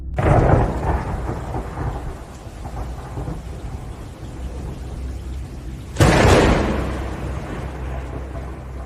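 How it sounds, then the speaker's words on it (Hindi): Rolling thunder rumbles over steady rain, fading out, then a sudden loud thunderclap crashes and slowly dies away. "बारिश की एक सर्दी भरी रात।"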